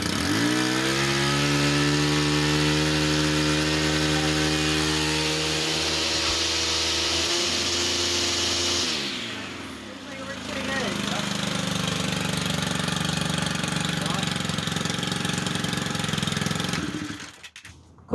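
A two-stroke, 2-cycle weed eater engine runs loud and close with a buzzing, revving whine, drops to a lower idle partway through, picks back up, and cuts off at the end. Speech is mixed in under the engine.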